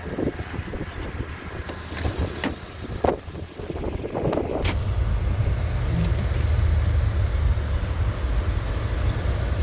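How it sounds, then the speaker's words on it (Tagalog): Strong wind gusting outside during a blizzard, rushing and buffeting the microphone in a heavy continuous roar, with scattered knocks and handling noise early on. "Ang lakas ng hangin dito sa labas."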